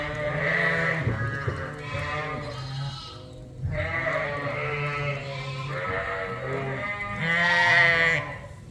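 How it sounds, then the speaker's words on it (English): Older Dorset lambs on a sheep farm bleat loudly and close, several long wavering calls overlapping one after another with brief gaps between. "I thought we'd stop and have a look at some of the older Dorset lambs right now."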